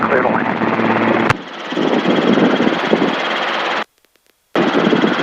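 Robinson R22 Beta II helicopter in flight on a training sortie, its engine and rotors giving a loud, steady droning roar inside the cabin that cuts out briefly near the end, with voices over it.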